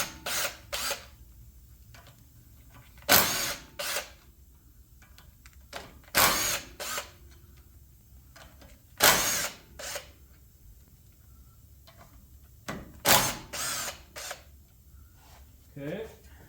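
A power tool spins out 10 mm bolts from the front hubs of a 1999 Chevrolet Tracker, several short, loud whirring bursts separated by pauses with light clinks and handling noise.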